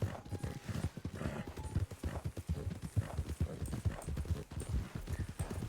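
Horse hooves clip-clop in a steady rhythm in Red Dead (RedM), close and fairly loud, with a brief whinny-like tone and faint voices in the background.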